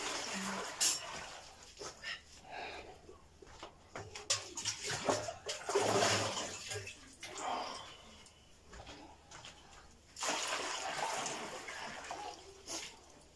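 Water pours and splashes into a container to defrost frozen items, a running, gurgling flow that rises and falls across the clip with a few clunks and faint background sounds.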